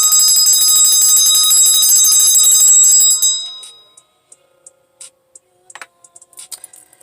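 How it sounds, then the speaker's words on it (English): A bell used in a spiritual reading session rings with a bright, sustained metallic tone for about three seconds, then fades, followed by faint scattered clicks and small noises. "we just gonna go back to the bell and clear out any negative energy"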